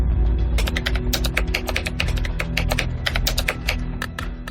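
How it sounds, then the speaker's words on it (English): Rapid typing of a password on a computer keyboard, a dense run of close, crisp key clicks with a steady rhythm and a few heavier strokes, heard alone with no talking. "That's Donahue typing his new password twice, and the keylogger picks it up."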